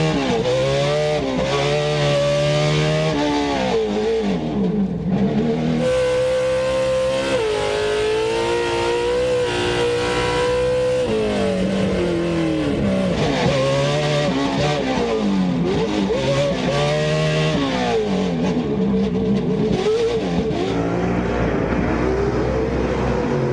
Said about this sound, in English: we love the sound of these big engines